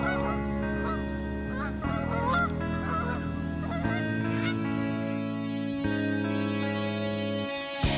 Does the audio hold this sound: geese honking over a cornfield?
yes